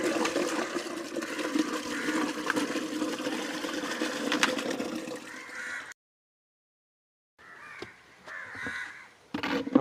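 Waste is poured into a biogas plant tank in Kerala, making a steady, loud gushing and splashing rush that stops abruptly, goes silent and then returns as softer sloshing.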